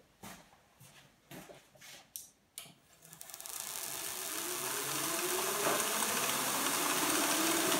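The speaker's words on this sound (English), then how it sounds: "So the machine's running again." Several sharp mechanical clicks and knocks give way to a static electric generator spinning up into a steady, rising whir that holds loud and constant to the end.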